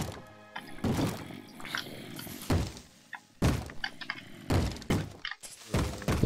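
Heavy thuds and crashing impacts repeat irregularly as a door is bashed in Minecraft, with growling noises between them and no speech.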